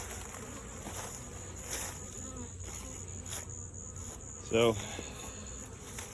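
Honey bees buzz steadily around beehives in West Louisiana after hurricane damage, a continuous insect drone with a brief louder swell near the end and a single short spoken word.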